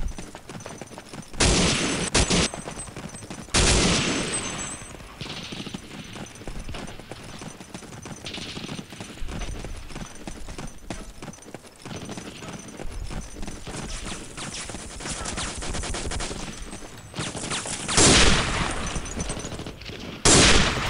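Sustained, heavy MG34 machine gun fire in the World War II shooter Day of Defeat, dense rattling bursts with loud sharp peaks and continuous battle noise throughout.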